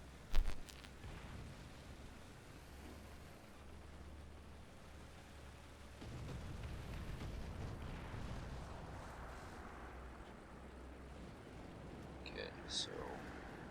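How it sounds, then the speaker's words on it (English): Distant artillery barrage in War Thunder tank combat: a sharp blast opens, then a steady low rumble of far-off explosions and a tank engine drone that swells louder midway, with a brief crack near the end. "To wait out the artillery barrage before pressing ahead."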